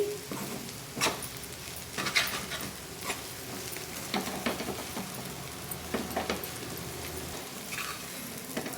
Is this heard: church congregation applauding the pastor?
no